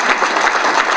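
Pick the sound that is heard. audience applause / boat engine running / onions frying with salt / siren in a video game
audience applause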